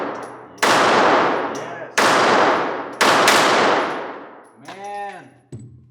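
Three sharp, loud gunshots from a Ruger Security 380 pistol at an outdoor range, about a second apart, each with a ringing decay, followed by a metallic clang and a brief spoken word.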